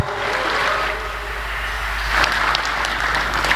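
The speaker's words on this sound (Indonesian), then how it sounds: "Tepuk tangan yang meriah sekali lagi untuk Bung Rocky Gerung." Crowd at a public event in Surabaya applauding Rocky Gerung: a dense, steady wash of clapping that holds for the whole stretch and swells slightly toward the end, with no voice rising above it.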